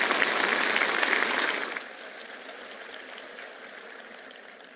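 An audience at Bharat Tex 2025 in a large hall claps in a dense, loud burst that cuts off after about two seconds, leaving a quieter room hiss.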